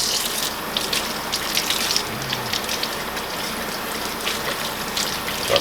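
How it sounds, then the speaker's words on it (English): A kitchen tap runs steadily into a pan, giving an even, close, hissing gush with no talk. "turn on the water"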